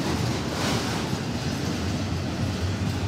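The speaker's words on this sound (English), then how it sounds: "That train's gonna stop, I think." Norfolk Southern 7277 freight train passing through Effingham, Illinois, a steady loud rumble of rolling cars and wheels on rails, continuous and close throughout.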